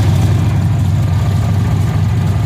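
A 1986 Mustang engine with a carburetor modified for blow-through runs steadily at a loud, close idle, a deep continuous rumble with no voices.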